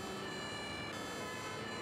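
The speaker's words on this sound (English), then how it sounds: "with lights and sirens" Emergency vehicle siren from the Emergency 5 video game with the Wuppertal mod, a steady wailing tone held for a couple of seconds, faint and distant in the mix with no talking.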